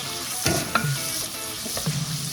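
Garlic and onion frying in a pan, with a steady sizzle broken by a few stirring scrapes and clatters, close and moderately loud with no voices.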